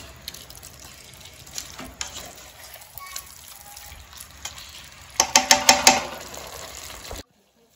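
Fried sausages go into a pot for a curried, creamy sausage stew, giving a soft sizzle and stirring that builds to a louder, rapid burst of bubbling and frying before cutting off abruptly.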